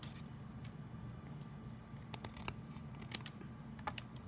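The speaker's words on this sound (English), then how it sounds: "And then again, we're going to trim off this excess." Scissors trim excess paper off a handmade card base, a few faint, sparse snips over a quiet background hum.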